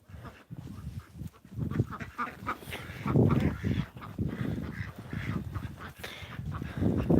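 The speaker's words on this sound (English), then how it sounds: "Run, run, here come the duckies." Ducks quack in bursts near a rural live trap, with a possum nearby, the calls overlapping in a busy, uneven chorus that rises and falls across the stretch.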